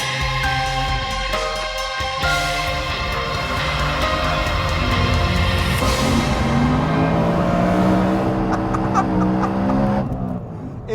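A high-revving BMW M3 4-liter V8 engine, redlining near 9,000 RPM on a race track, screams up through its gears, loud and close, pitch climbing before it backs off near the end.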